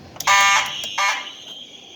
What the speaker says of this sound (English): since Jared's videos have these alarms in March time, I'll go ahead and do something real quick